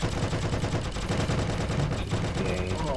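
Gunfire in the Heroes & Generals video game: dense, continuous bursts of automatic fire with overlapping shots, loud and unbroken for the whole stretch.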